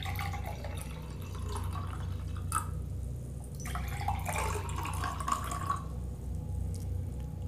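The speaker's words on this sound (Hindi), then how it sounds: "आधा आधा करके पानी ले लिया है" Water is poured into a drinking glass, filling it about halfway, during a home soap demonstration; soft trickling and dripping splashes come and go against a steady low background hum, fairly faint, with no talking.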